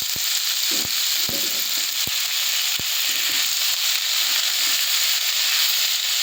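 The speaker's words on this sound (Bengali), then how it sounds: "এবার আমি ভাজবো শাকটা এবার আমি নেড়ে চেড়ে ভালো করে ভেজে নিচ্ছি" Boiled and drained susuni greens sizzle in oil with garlic, a steady dense frying hiss with several sharp spatula taps and scrapes as the greens are stirred.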